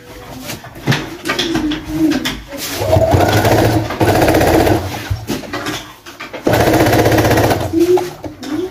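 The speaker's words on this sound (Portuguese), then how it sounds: "E aí, é só passar outra costurinha só pra segurar" A domestic sewing machine stitching fabric for a child's dungarees, running in bursts of rapid mechanical chatter separated by short pauses and slower clicks, fairly close.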